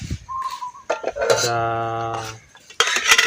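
Metal camping nesting cookware and spoons clink and rattle together up close, with several sharp ringing knocks and a sustained metallic resonance between them.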